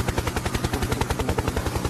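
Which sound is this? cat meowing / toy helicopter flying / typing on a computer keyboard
toy helicopter flying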